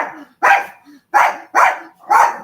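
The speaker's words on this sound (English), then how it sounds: "my dog was going to bark." Dog barking indoors: four loud, sharp barks in an uneven rhythm over about two seconds, with soft whimpering noises between them and no talk.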